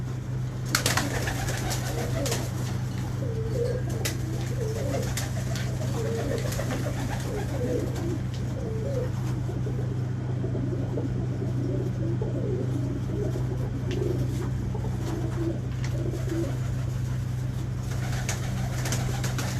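Pigeons coo steadily in a loft for a long stretch, overlapping soft calls from several birds over a constant low hum, with occasional faint clicks and no talk.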